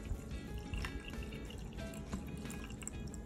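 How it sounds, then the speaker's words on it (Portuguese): Cold water from the fridge is poured into a jug of tea, heard as a quiet, close trickle with irregular splashes and drips and no talking. "E agora eu vou colocar água gelada, água da geladeira."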